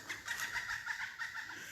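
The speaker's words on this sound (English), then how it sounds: "That bird just scared the heck out of me." A bird calls repeatedly in quick, rhythmic bursts, faint and somewhat distant, against quiet outdoor air.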